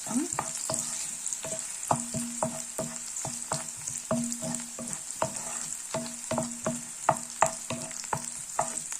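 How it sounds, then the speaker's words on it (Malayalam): Ginger, garlic and shallots fry in hot oil for a fish curry, giving a constant bright sizzle broken by repeated sharp taps and scrapes of a spoon stirring in the pan, close and without voices. "ഇഞ്ചി വെളുത്തുള്ളി ചെറിയുള്ളിയും കൂടെ നല്ലതുപോലെ എണ്ണയ്ക്കകത്ത് കിടന്നുകൊണ്ട് മൂക്കണം"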